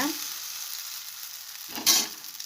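Tamarind puli adai, pressed out on a leaf, cooking on a hot pan after being flipped, giving a soft steady sizzle close by with a brief louder hiss near the end.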